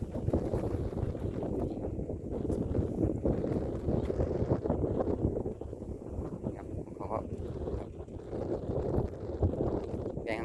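Wind blows steadily across an open rice field being plowed for sowing, a continuous broadband rush with gusty microphone buffeting throughout and no voices.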